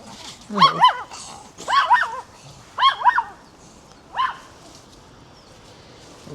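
A dog barks in short bursts of two or three woofs, spaced a second or so apart, outdoors in a busy village street on a weekday morning, moderately close and clear over low background noise.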